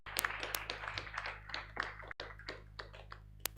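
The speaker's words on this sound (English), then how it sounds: "You can clap for yourselves." An audience claps for the teams at the AI for Health Symposium at Mbarara University of Science and Technology. The applause is quiet and loosely scattered, with sharp individual claps heard over a steady low hum.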